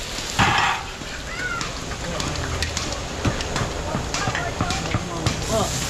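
Pork belly sautés with garlic, onion and vegetables at a rural family feast in Zambales, crackling and sizzling loudly alongside clinks and scrapes of utensils, with background chatter and bird-like chirps.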